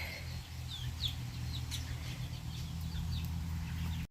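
Chickens cluck near a coop on a family farm, with a few short, sharp calls scattered over a steady low rumble of background noise.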